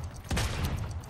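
A single loud gunshot from the video game Realm Royale, a sharp burst with a short noisy tail over a background of game ambience.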